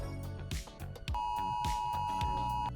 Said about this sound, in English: you've just created a simple laser tripwire alarm using an Arduino Uno